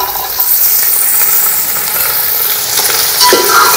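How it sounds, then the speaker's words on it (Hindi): Meat pieces fry loudly in a pot with whole spices, cloves, black cardamom, garam masala and red chilli for a Karachi-style night pulao, giving a steady close sizzle and hiss with occasional stirring scrapes. "2 चाय के चम्मच लाल मिर्च, और ये बोटियाँ डाल के भून लें।"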